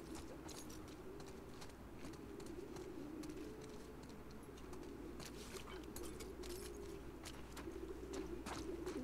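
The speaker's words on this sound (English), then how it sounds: "Sounds like pigeons." Pigeons coo in a low, soft, continuous murmur inside an abandoned building in The Last of Us Part II, with faint clicks and scuffs over steady background hum.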